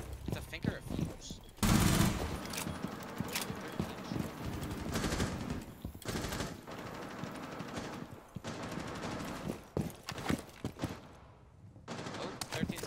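A light machine gun fires in a ranked shooter match, loosing rapid bursts of automatic fire that start and stop in uneven stretches, mixed with other game sounds and a player talking over the action.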